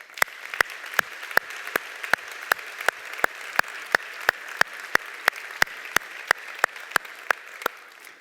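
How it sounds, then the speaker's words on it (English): Steady, evenly spaced claps ring out at a summit event, single sharp hand claps repeating about three times a second, close and crisp over a quiet background. "Please give them a big round of applause."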